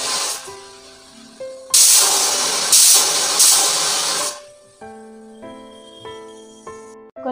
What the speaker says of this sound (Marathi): 4 शिट्ट्या होईपर्यंत वाट बघूयात।